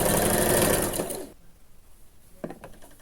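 Sewing machine stitches fabric in a fast, loud whirring burst for about a second, then stops, leaving quiet handling noise and a brief clack.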